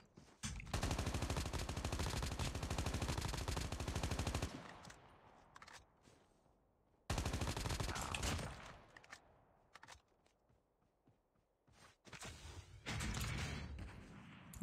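Rapid automatic gunfire from a video game, two long sustained bursts close and loud separated by quiet, then a shorter burst near the end.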